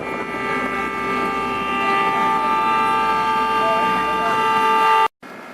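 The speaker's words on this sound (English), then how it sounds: "Sound the horn, Ron." A loud, steady horn blast with strong harmonic tones sounds for about five seconds, then cuts off abruptly, followed by low background noise.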